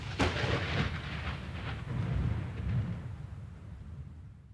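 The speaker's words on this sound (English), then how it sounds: "An extra dramatic lightning strike to mark the end of this lackluster level." A deep, rumbling thunderclap from a dramatic lightning strike in the Nightmare Creatures video game, opening with a sharp crack and rolling off into a fading low rumble.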